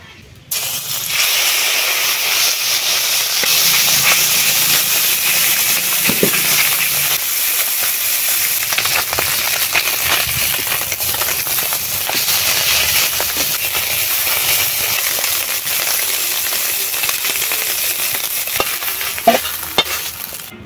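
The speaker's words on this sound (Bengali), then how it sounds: "চুনো মাছগুলো ভেজে তুলে নিয়েছি" Small freshwater fish fry in oil in a wok, a steady loud hiss and crackle of sizzling that carries on throughout, with occasional stirring clinks over it.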